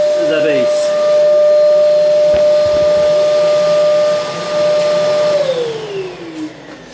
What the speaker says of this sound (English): M-class vacuum, and so it is going to be filtering out a lot.